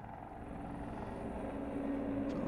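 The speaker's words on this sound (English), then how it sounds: "It's a nice effect for the helicopter." A steady, low helicopter rotor drone with a constant mechanical whir, holding even throughout.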